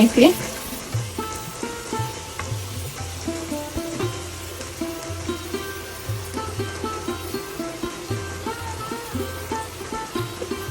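Beef tripe with chopped tomato, turmeric-boiled and then stir-fried in a pan, sizzling steadily with a rhythmic scraping and stirring pulse about twice a second, close and moderately loud.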